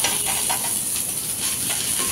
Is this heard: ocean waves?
no